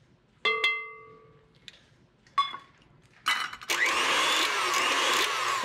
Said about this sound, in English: So now finish off the folding process with your beater.